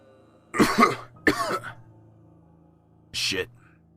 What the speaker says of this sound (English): Sorry, I just coughed.